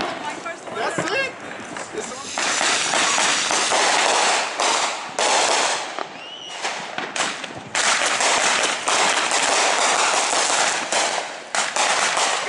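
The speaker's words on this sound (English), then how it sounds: "Hear that behind me? It is sounding insane out there. There is fireworks everywhere." Fireworks and firecrackers bursting outdoors on Independence Day, a dense, continuous barrage of loud crackling pops and bangs with sharp repeated bursts, some near and some distant, with faint voices briefly audible in the background.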